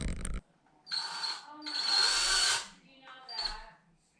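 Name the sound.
drill pre-drilling holes in a door slab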